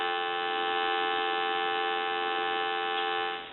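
A steady, continuous electronic telephone dial tone hums evenly for several seconds without variation, then cuts off abruptly.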